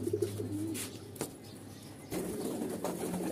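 Pigeons coo in a low, steady murmur at feeding time, with soft rustling and a brief thump partway through; the flock sounds close and moderately loud, with no talking.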